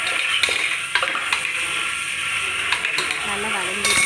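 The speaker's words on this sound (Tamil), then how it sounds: "அதை நீட்ட பாக்கில் கட் பண்ணிக்கிட்டு அதையும் போட்டு நல்லா வதக்கிடுவேன்" Long-sliced onions sautéing in a pan for a white kuruma, a steady close sizzle with occasional stirring scrapes and clinks, some voice faintly underneath.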